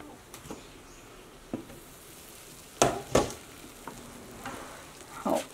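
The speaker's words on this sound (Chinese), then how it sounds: "盖上盖子，再小火煎个4分钟左右" A yam and corn breakfast pancake fries in a covered pan over low heat, giving a faint, steady sizzle. Sparse soft pops and crackles come every second or so.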